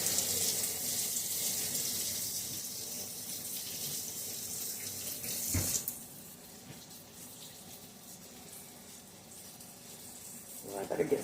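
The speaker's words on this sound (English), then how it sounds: "I'm going to rinse off my fingers real quick," Tap water runs steadily into a sink while dough is rinsed off fingers during tomato frying, fairly faint with a brief clunk midway before the flow quiets.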